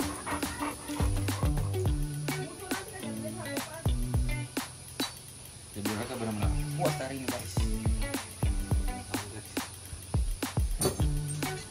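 A pet dog barking repeatedly in short, loud, rhythmic bursts with yips and whimpers in between, close by at a home swimming pool, with music playing underneath.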